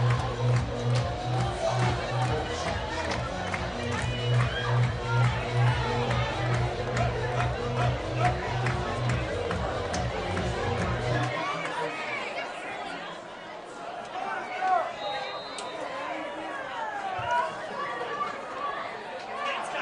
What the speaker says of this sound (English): as this crowd starts to get into it